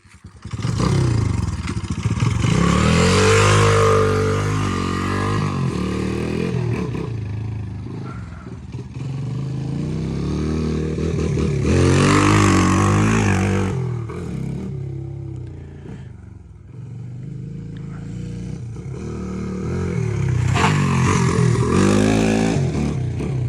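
A Honda XR100 dirt bike on a test ride, its small single-cylinder engine loud and close, rising and falling in three long revving surges with steady throttle between them.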